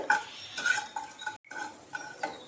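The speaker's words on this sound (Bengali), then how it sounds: "আর দিয়ে দিচ্ছি মেথি, ফোড়ন হিসেবে দিয়ে দিলাম। ফোড়ন অবশ্যই একটু ভেজে নিতে হবে," Fenugreek seeds and a red chilli frying as tempering in a pan for a mustard-style fish dish, heard as light metallic scraping and ringing clinks of a utensil against the pan over faint sizzle, no talk.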